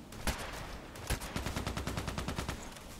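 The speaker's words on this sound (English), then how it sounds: "It's too loud. You cannot even put a silencer on the Nagant." Mosin Nagant rifle shots in a video game, with a few sharp loud cracks followed by a rapid string of evenly spaced gunshots, close and unsuppressed.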